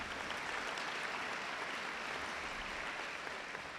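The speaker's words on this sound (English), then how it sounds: "Can we please give them a round of applause?" Steady, fairly faint applause from an awards ceremony audience, a dense wash of clapping hands that holds evenly for the whole stretch.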